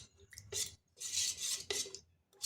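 Grape juice being stirred with cornflour in a bowl, with a spoon scraping and clinking against the sides in short bursts separated by brief pauses.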